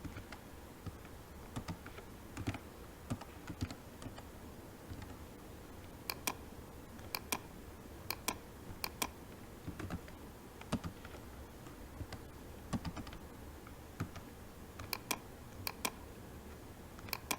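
Keys tapped on a computer keyboard while an IP address is entered, sparse clicks and short bursts scattered over a steady low room hum, close and fairly quiet, no talking.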